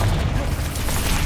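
A Bombarda explosion spell in Hogwarts Legacy, a heavy booming blast with dense low rumble and crackling debris, loud and close, sustained for over a second.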